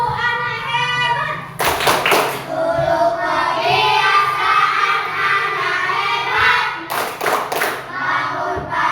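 Schoolchildren in a classroom clap together in a rhythmic clapping game, two short bursts of brisk unison claps rising over the room noise, with children's chatter and an adult voice around them.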